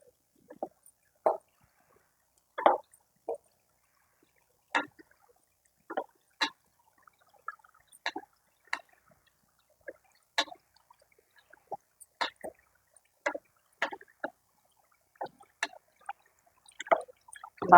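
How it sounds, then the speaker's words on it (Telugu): Mutton curry with yogurt, pepper and coriander powder simmers in a pot, giving soft scattered bubbling pops and drips that come one by one, close and faint, with no voices. "చూడండి కూర ఎలా ఉడుకుతుంది."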